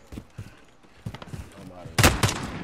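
Enemy gunfire in Call of Duty Modern Warfare crackles as a scattered series of sharp shots, some distant and light, then a louder close burst of rapid rounds, with talk between.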